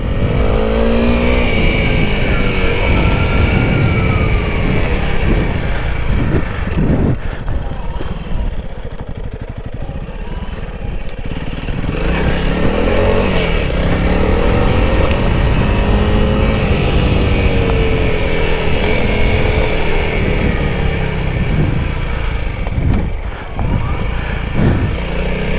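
A Honda CRF300L dual-sport motorcycle engine drones and revs while being ridden, its pitch rising and falling through throttle changes and wheelies, loud and close with heavy wind buffeting throughout.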